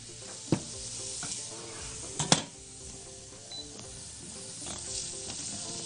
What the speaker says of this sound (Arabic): ونقلب الخلطه المحترمه ديت مع بعضها اللي هو البصل.